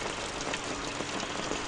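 Rainwater pours steadily down into a concrete catch basin, making a continuous hissing rush of water with no pauses and no voices.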